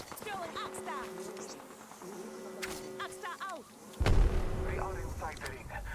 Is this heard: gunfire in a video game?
yes